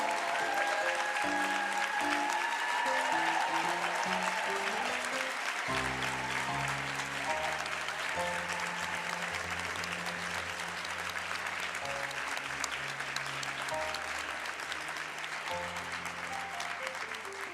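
Audience applause at a university distinction ceremony at UQTR as work team members stand, steady dense clapping throughout with music playing underneath.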